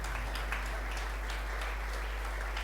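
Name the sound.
church congregation applause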